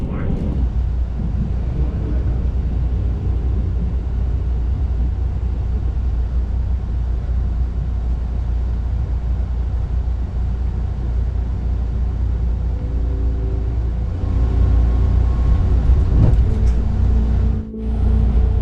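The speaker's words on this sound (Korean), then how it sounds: "그런데 열차가 갑자기 움직이기 시작합니다." A Saemaeul train on the Jungang Line starting to move, heard from inside as a steady, loud low rumble and hum that builds toward the end, with a few clunks and a brief dip near the close.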